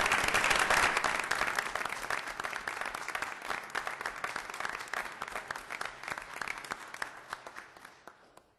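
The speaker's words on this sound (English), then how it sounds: "I'd like to give you a round of applause for your willingness to serve our community." Audience at a city council meeting applauding newly chosen task force members, a dense burst of many hands clapping that starts strong and gradually thins and fades out over several seconds.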